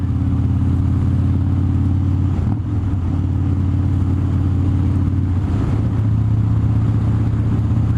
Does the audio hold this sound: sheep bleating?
no